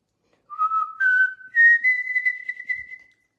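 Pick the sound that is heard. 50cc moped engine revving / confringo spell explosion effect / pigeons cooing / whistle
whistle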